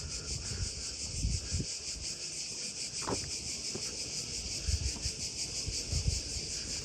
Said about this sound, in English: yeah, those are cicadas